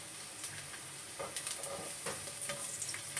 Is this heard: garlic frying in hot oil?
yes